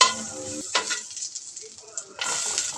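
Ginger frying in butter in a pan, a brief sizzle with stirring and scraping at the start and again near the end, separated by a quieter gap.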